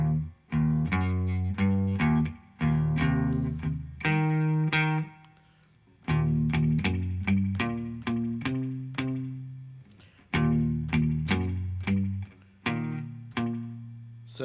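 An electric guitar plays a Texas blues riff, with clean, twangy strummed chords in a choppy shuffle rhythm, close and alone with short pauses between phrases.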